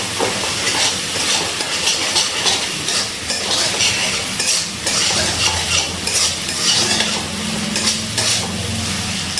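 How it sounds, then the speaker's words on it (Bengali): Ginger paste and green chili paste are stirred into sizzling spices in a pan, with a spatula scraping and clinking against the metal amid steady frying hiss, close and continuous, no talking. "এবার ভালো করে সব মশলার সাথে মিশিয়ে নিচ্ছি"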